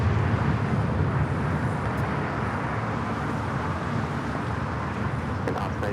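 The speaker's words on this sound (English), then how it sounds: "That was American Eagle 4916 taking off to Houston Intercontinental on the E175." An American Eagle Embraer E175 jet takes off at LAX, producing a loud, steady engine roar that holds evenly from start to finish.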